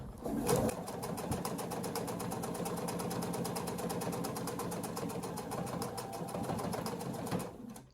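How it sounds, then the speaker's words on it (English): A sewing machine back tacks through quilted fabric scraps at a pocket edge, giving a fast, even mechanical chatter of stitching that runs close and steady for several seconds before it stops. "For this, I'm going to back tack."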